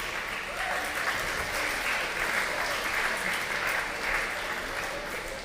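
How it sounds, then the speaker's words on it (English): Steady applause from a crowd at a school closing celebration, a dense wash of clapping that holds at an even level throughout with no voices standing out. "Please give yourselves a huge round of applause."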